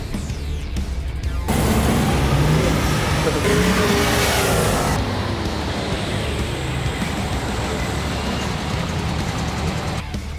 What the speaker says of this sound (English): Combi versus Audi Q7 in reverse in 3, 2, 1, go!